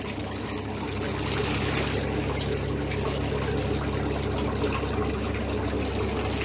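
Water from a fish transport bag pours and trickles into a tank, a continuous soft splashing stream at close range with no talking.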